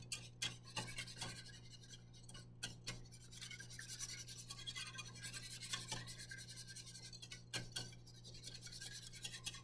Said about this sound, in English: Now I'm gonna whisk, whisk, whisk, trying to get all of those lumps incorporated.